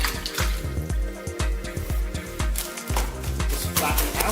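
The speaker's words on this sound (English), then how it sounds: "Get yourself" A kitchen tap runs while flapjacks are being made, giving a steady splashing stream of water with small irregular gurgles throughout.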